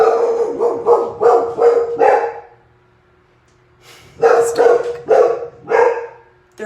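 A dog barks loudly and close by at home, a quick run of about five or six barks, a brief pause, then another burst of four or five barks.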